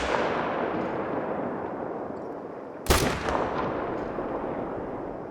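A single sharp rifle shot in the hunting video game theHunter: Call of the Wild cracks loud and close over a steady rushing outdoor ambience.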